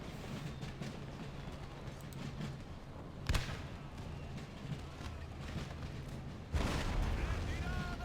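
Artillery and mortar fire in the Empire Total War video game, distant booms with one sharp crack midway and a louder rumbling burst near the end, under steady battle noise.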